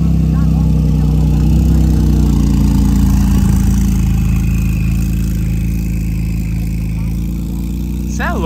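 A street-race car engine idles with a deep, loud, steady rumble and swells now and then into revs, while a person talks over it.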